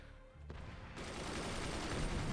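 An explosion in the artillery fort-building game Forts bursts into a loud, sustained crackling roar of blasts and debris, like rapid gunfire, continuing to the end with no talk.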